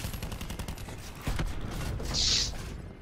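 Rapid automatic gunfire from a war machine weapon in a multiplayer shooter game, a dense crackling volley lasting a few seconds with a bright whining burst near the end, no talking.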